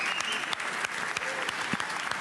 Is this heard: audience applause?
yes